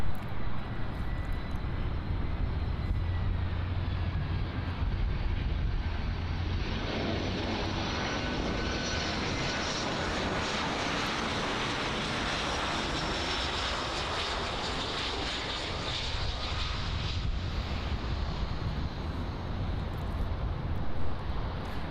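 An American Airlines Airbus A319-100 lands on runway 09 at Miami International Airport, its engines a steady, broad roar that holds at a fairly even level for the whole stretch, with no voices.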